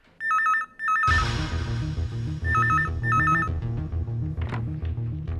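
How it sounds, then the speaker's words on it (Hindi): A telephone rings with short repeated electronic bell trills, loud and close, sounding in bursts over a background music score during a Hindi TV crime drama scene. "किसका फोन है?"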